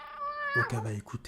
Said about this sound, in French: Et là, elle va entendre un chat miauler.